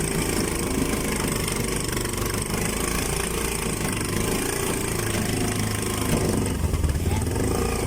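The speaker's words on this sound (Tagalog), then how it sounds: "Ayun ang ating isang motor." A motorcycle engine idles steadily and loudly close by, a constant low rumble throughout with faint voices underneath.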